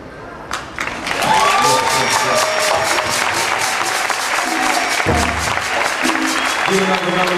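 Applause and scattered cheers rise from the audience at a virtual concert at Humboldt Boathouse, building after a brief opening and continuing steadily while someone speaks over the clapping.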